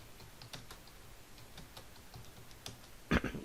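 Typing a search into Google on a keyboard, sparse, quiet key taps scattered over low room noise, ending in a louder cluster of clicks.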